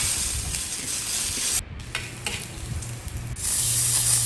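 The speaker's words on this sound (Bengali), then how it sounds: "একদিকে আমি এটাকে ফ্রাই করে নিচ্ছি।" Onion and mustard seeds fry in hot oil in a home kitchen, a steady close hiss with brief stirring scrapes and a short break in the sizzle partway through.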